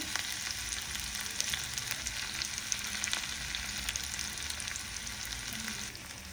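Crushed green chilli and garlic fry in oil for a dhaba-style masoor dal, giving a dense, even sizzle with crackling pops throughout that eases slightly at the end, with no voices.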